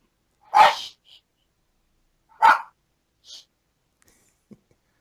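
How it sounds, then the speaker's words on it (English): A dog gives two sharp, close barks about two seconds apart, followed by a couple of faint, short yips or snorts in an otherwise quiet indoor room. "I always have my dogs with me"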